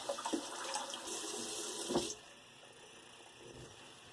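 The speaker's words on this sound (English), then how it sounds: "Let me rinse my face, and then we'll do some of that." Running water at a bathroom sink while someone rinses their face: steady close splashing and hiss for about two seconds, then a quieter trickle continues, with no talk.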